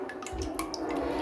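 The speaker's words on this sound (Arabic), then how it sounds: "هنجيب حلة ونحط فيها مية دي لسلق المكرونة" Water poured into a cooking pot for boiling pasta, a short steady splashing pour with a drip-like patter, close and fairly quiet, no talking.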